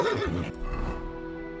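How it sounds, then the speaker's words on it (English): A horse in a video game whinnies briefly and loudly at close range, the call fading within a second into low background noise. "Easy, good horse."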